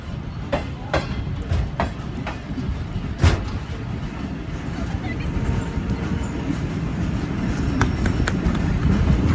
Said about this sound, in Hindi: अब तो अच्छी स्पीड में हो गई है ट्रेन।